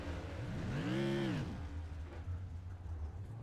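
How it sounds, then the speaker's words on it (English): A modified race car engine at Irwindale Speedway revs back onto the throttle after a spin, a rising then falling whine heard at a distance over a low steady track drone. "You heard him just trying to get back to the throttle."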